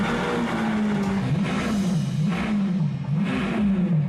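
A Lamborghini Aventador engine drones loudly and steadily, its pitch rising and falling in a few revving swells over continuous engine noise, with no talking.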